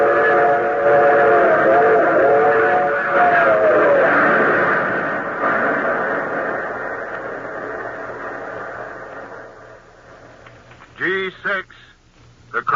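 A steam train in an old radio drama: a loud chuffing rumble with a wavering two-tone whistle at the start, fading away under narration, then short sharp whistle blasts near the end.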